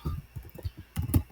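Quick, close keystrokes on a computer keyboard as code is typed, a brief run of light irregular clicks ending in a couple of sharper taps.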